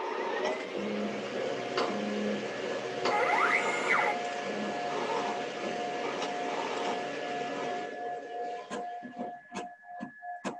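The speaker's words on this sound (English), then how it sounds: "the mechanism lifts the cookie up off of the tray one at a time, brings it into the printer" An Eddie edible-ink food printer lifts a cookie from its tray and prints on it: a steady mechanical whir with rising servo whines, then a series of quick ratcheting clicks near the end, close and alone.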